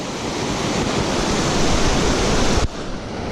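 Himalayan river near Manali rushing loudly during a crossing, a dense, steady roar of fast-flowing water close to the microphone, with some wind rumble and no speech.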